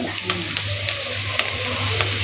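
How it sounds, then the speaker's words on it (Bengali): Onions, chillies and garlic sizzle in hot oil, a crackling fry broken by quick scraping clicks of a spoon stirring the pan. "দেখেন পেঁয়াজ মরিচ রসুন এগুলো একটু ভাজা ভাজা হচ্ছে।"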